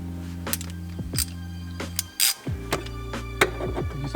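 A hand ratchet clicks in short, irregular bursts while tightening the bolts of a TUFFY console safe in a Tacoma, close up and alone, with a steady low hum underneath.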